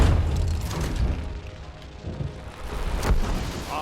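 Rumbling thunder effect from Thor's lightning power in the Lego Marvel Super Heroes video game, a booming low roll that swells and fades, with a sharper crack near the end and no talk over it.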